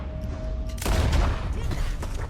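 Gunfire in the video game Red Dead Redemption 2: a sudden loud boom-like volley of shots with a rumbling low tail and rattling echoes, over ambient game sound.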